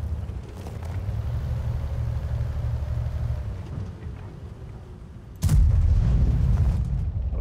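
A tank cannon fires in World of Tanks, one heavy boom that cuts in over a steady low engine rumble near the end.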